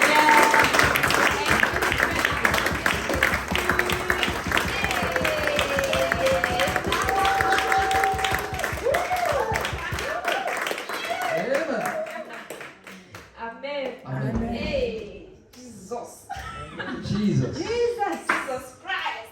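Church congregation clapping rhythmically and cheering in praise, sustained loud applause with voices calling out over it, thinning into scattered shouts and clapping toward the end.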